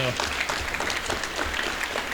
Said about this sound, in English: Let's give a round of applause to Kimmy Zhang.